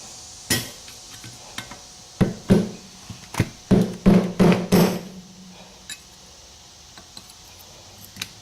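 A hammer taps the steering head bearing cup on a 1978 Kawasaki KZ750 motorcycle, making sharp ringing metallic knocks in uneven groups of several blows, close and clear, then spacing out into a few lighter taps.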